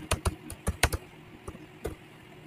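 Python code is typed on a computer keyboard in a quick, uneven burst of about eight crisp key clicks, close and clear, with a pause before the last few strokes.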